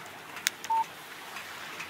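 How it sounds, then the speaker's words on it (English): A short electronic tone of a phone text-message alert sounds once in Alan Wake Remastered, a brief steady beep near the middle of a quiet ambient game background, with a few faint clicks around it. "Text message from Barry."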